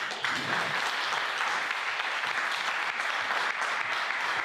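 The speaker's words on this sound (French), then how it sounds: "je vous demande d'applaudir bien fort le panel qui est derrière moi." A conference audience at a French event on creativity and AI applauds an expert panel, with steady, dense clapping that fills the room from start to finish at even loudness.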